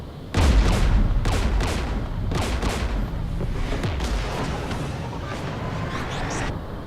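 Heavy sustained gunfire in Mass Effect 3 during a Geth assault near a jamming tower with anti-aircraft guns, dense bursts and booming impacts rolling continuously for several seconds, loud and close.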